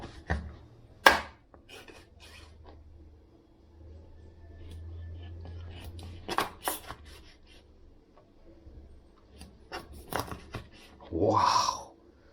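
A knife cuts fresh fish into barrel-cut steaks: a few sharp, close chops and slicing scrapes with quiet gaps between them, while someone talks over the work.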